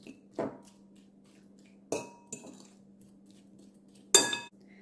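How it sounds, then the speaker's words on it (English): A utensil clinks a few times against a dish while mashed banana, honey, oats and peaches are stirred, sparse sharp taps separated by quiet pauses, close and faint with no talking. "we're just going to stir that all around in those peaches."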